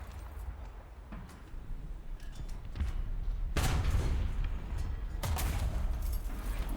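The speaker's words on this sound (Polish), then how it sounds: "No i teraz zaczął strzelać do mnie." Tank cannon fire in War Thunder: a couple of heavy booming shots ring out over a steady low engine rumble, with scattered distant impacts.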